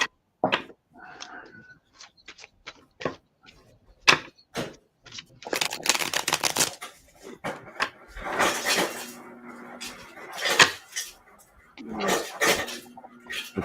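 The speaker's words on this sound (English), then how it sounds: "That's my daughter getting ice. Oh, that's ice." Ice being scooped and dropped in a home kitchen, a run of sharp clinks and clatters like dishes and cutlery, starting as scattered separate knocks and building into denser, louder rattling bursts nearby.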